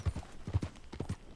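A horse's hooves clip-clop in Red Dead Redemption 2 in a steady walking rhythm, several soft thuds close by and moderately quiet, with no talk.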